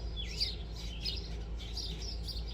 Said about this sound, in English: Oh, Mama Bird just came back.